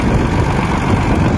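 A 2014 Belarus MTZ 1221.2 tractor with an overhauled engine and new turbocharger runs steadily, a loud, constant low rumbling drone close by with no talking.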